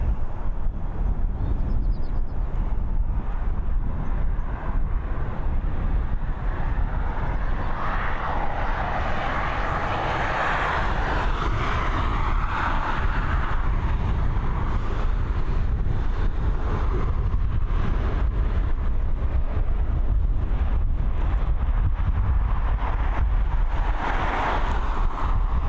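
Cold, biting wind blows at Dublin Airport, a continuous loud roaring rumble with heavy buffeting that rises and falls gently for about twenty-five seconds.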